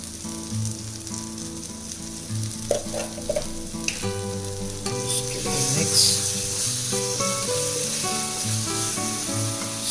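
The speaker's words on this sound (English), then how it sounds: "cook it nicely till our tomatoes start releasing oil from the sides" Tomatoes fry in oil in a pan for a tomato rice dish, a steady close sizzle running throughout with occasional soft stirring clicks and a faint music-like tonal layer underneath, no one speaking.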